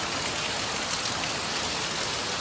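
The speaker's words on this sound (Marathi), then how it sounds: "असाच कंटिन्यू पाऊस पडत राहून दे," Steady rain pours down in a village, a continuous even hiss with no break and no voices.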